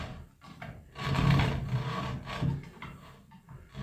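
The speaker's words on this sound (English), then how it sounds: "you can get a hacksaw blade that's got a handle" Hacksaw blade rasping back and forth across a reproduction fish fin, with close, rough strokes in a broken rhythm, louder in the middle stretch.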